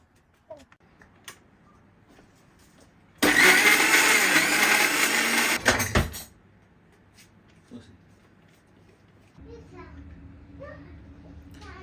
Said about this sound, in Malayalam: നമുക്കത് ഇത് നല്ലപോലെ ഒന്ന് അരച്ചെടുക്കാതെ.